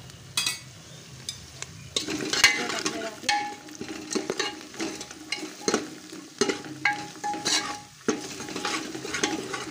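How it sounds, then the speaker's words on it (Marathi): Spices (chilli powder, turmeric, garam masala) and green chillies frying in a pan for dal palak, a constant sizzle broken by repeated scraping stirs and spatula clinks against the metal, close up. "सगळं फ्राय करून घ्यायचं आपल्याला चांगल्या प्रकारे"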